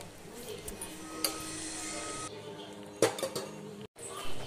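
Pans and metal utensils clink and scrape as boiling macaroni with a little oil is stirred in a cooking pot, a steady bubbling hiss underneath with a few sharper knocks against the metal.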